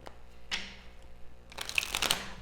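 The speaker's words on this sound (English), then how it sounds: "And one more shuffle." Tarot cards being shuffled close by: a couple of quick riffling bursts followed by a longer flurry of flicking and snapping cards, no talking.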